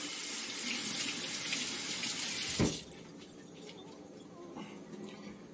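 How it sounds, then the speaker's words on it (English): Tap water runs steadily into a sink as a cheese-coated bowl is rinsed, a loud hissing stream that cuts off sharply midway with a clunk, leaving faint drips and quiet kitchen handling. "I'm going to rinse this bowl out and just use it"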